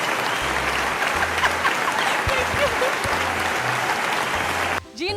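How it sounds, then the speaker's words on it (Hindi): Steady applause from a studio audience at a general knowledge quiz show keeps a dense, even clatter of many hands for nearly five seconds, then cuts off abruptly at the end. "खुद ही अपने लिए तालियां कर लें।"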